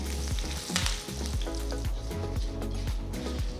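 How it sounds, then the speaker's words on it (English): Mustard and cumin seeds splutter and crackle in hot oil in a pan for a ginger pickle tempering, with a dense, steady sizzle and rapid popping close up, no voices. "Once hot, add 1 teaspoon of mustard seeds and 1 teaspoon of cumin seeds. Let them splutter."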